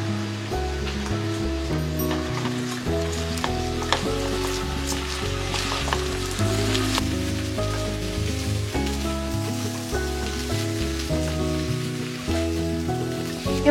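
Gobindobhog rice fries in ghee with garam masala for chicken pulao, giving an even, continuous sizzle throughout under steady background music.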